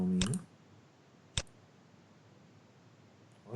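A computer mouse clicks a few times at close range: a sharp click near the start, a single isolated click a second later, then a softer one at the very end, over a quiet room hum.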